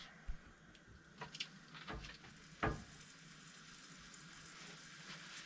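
Soft, steady sizzling of steak frying in a pan outdoors in a field, with a few sharp clinks and taps of utensils over the hiss.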